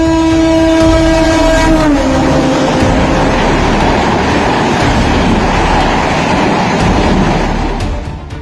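A Vande Bharat Express train runs loudly past on the rails, a long horn blast sounding over the first two seconds before the steady rumble and clatter of the passing cars fill the rest, with no voices heard.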